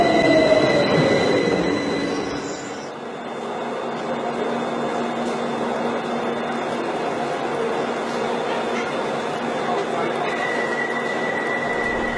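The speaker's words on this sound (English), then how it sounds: "Let's check out a little bit of Subway train on fire." A subway train on fire runs along its rails, with high metallic wheel squeals and a steady rolling rumble of rail cars throughout, loud and close.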